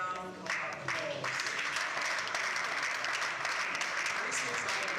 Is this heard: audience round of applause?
yes